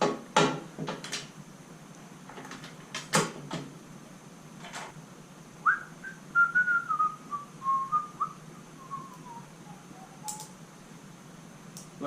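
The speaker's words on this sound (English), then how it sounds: "I like to, whistle the circus music" A man whistles a circus tune in a workshop while working on a Briggs and Stratton snow thrower. Scattered clicks and knocks from handling parts come first, then a clear, wavering whistled melody.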